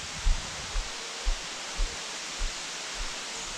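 A waterfall in Puerto Rico makes a steady, broad hiss of rushing water, with faint low thumps recurring about every half second underneath.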